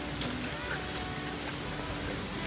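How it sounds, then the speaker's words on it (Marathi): Steady rain falls on the way to a famous Maharashtra waterfall, a dense, even hiss of drops on surfaces filling the whole short stretch at constant level, with no voice over it. "पाऊस पडला आता"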